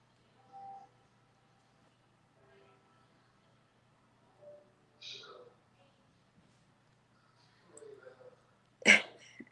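A single sharp, loud sneeze bursts out near the end, after several quiet stretches of faint sounds and breathing in an otherwise still room.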